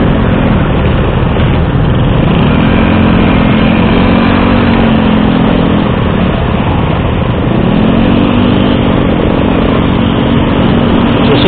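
A Suzuki Hayabusa motorcycle engine runs loud and close, holding a steady drone with two smooth rises and falls in pitch as it revs, with no talk over it.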